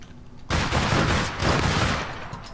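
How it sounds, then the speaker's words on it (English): A burst of dense gunfire erupts in APB Reloaded as shotguns pound against a tank, a loud, continuous crackling barrage starting abruptly and holding for about two seconds, with no talk over it. "They're using shotgun against my tank."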